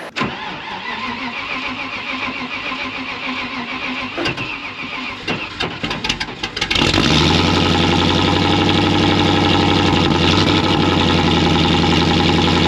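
A 1996 Land Rover Discovery cranks over for a cold start, then catches around the halfway point and settles into a loud, steady idle close by, with no talking.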